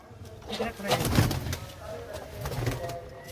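Pigeons coo softly and repeatedly on an open rooftop, close by over a low background, with people talking nearby.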